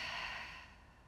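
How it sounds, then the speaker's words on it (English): A single soft, airy exhale through an open mouth during a power yoga flow, close and quiet, tapering off after about half a second. "Open the mouth, full breath out."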